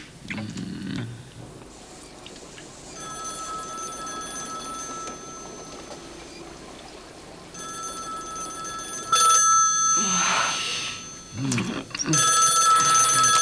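A telephone bell rings in a French film scene, two long bursts of bright trilling separated by a pause, fairly loud and close, with a voice speaking between and over the later rings.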